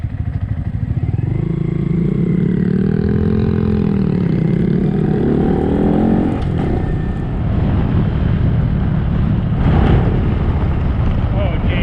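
Several small motorcycles ridden off-road in the backcountry drone close by, engine pitch rising and falling as they accelerate and shift, with a loud steady roar through most of the clip.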